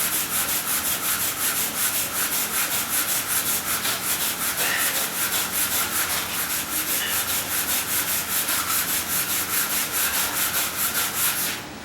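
A wire brush is scrubbed back and forth on the ground at an angle, a loud, steady, rhythmic rasping scrape with even strokes and no talking.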